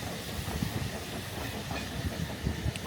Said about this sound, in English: This train has come from Bleiddiau, and is now heading down to Portmadoc.